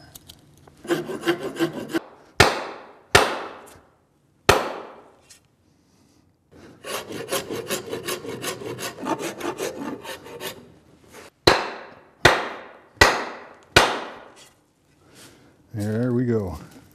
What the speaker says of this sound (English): By filing that edge out, when I drive this handle out of the axe head